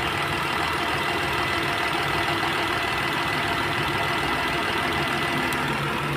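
A Renault Kwid car engine idles after an overhaul, close and loud, with a steady, even rumble and a faint ticking texture that runs unbroken throughout.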